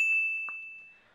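A single bright bell ding rings clearly and alone, then its tone slowly fades away.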